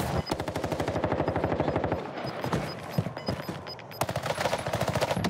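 Sustained automatic gunfire in Call of Duty Warzone, close and loud, rattles out in rapid bursts with a short pause near the middle before the firing resumes.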